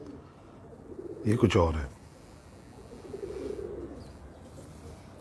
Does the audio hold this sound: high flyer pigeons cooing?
yes